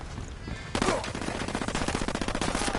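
Rapid automatic gunfire from a firefight in Ghost Recon Wildlands erupts after a short lead-in and continues as a fast, steady stream of close shots.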